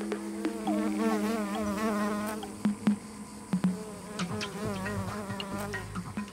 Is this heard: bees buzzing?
yes